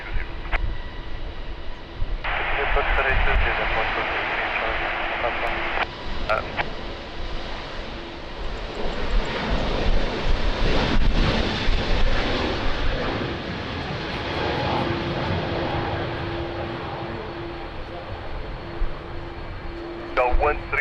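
An airliner on final approach to runway 20 at Lisbon Airport in a strong crosswind, its engine roar steady and broad throughout, with a tower radio voice speaking over it.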